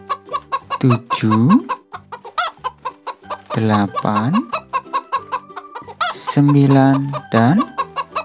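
Chickens cluck in a farm garden, a busy run of repeated clucks and longer squawks, close and loud, while a voice counts aloud over them.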